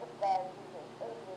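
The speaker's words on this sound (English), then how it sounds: "It was underwater, so it's all muffled." A short stretch of voice played through a phone voice-changer app's underwater effect comes out muffled and warbling, as brief garbled talk with a faint bubbly shimmer.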